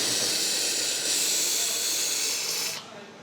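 Whipped egg whites discharged from a cream siphon into a bowl make a loud, steady, close hiss of spraying gas that stops abruptly.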